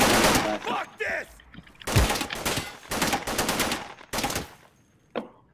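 Bursts of automatic gunfire from the video game Insurgency, rattling in several loud volleys with short gaps between them, ending in a single sharp shot.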